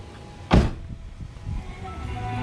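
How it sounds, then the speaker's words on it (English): A single solid thunk of a Hyundai Veloster door shutting, close by, followed by low background rumble. "Now I'm gonna close the door."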